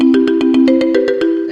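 A mobile phone ringtone plays loud and close, a steady rapidly pulsing melodic pattern of repeating beeps with shifting pitch and no talking.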